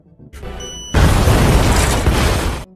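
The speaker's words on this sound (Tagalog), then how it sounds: "pinahintulutan ng kanyang mga kaibigan ang lalaking ito na magpasabog ng bomba na inilagay sa isang restaurant" A bomb going off in a restaurant in a film: a sudden loud blast cuts in after a short quieter mechanical lead-in, then roars as a sustained rumbling wash before stopping abruptly.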